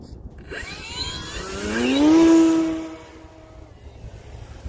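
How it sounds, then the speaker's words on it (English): Electric motor of an Arrows Husky 1800mm RC plane winding up on takeoff: a rising whine that swells loud as it passes close around the middle, then fades into the distance over steady outdoor wind noise. "Let's take off without flaps, and then I'll test it in the air."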